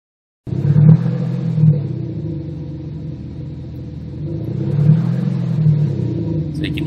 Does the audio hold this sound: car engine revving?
yes